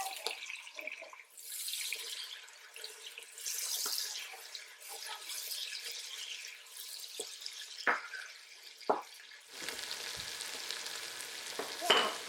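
Pepper and crayfish sweating in a pot for blood tonic okra, a soft steady sizzle and hiss with occasional stirring scrapes and clinks, fairly close and quiet.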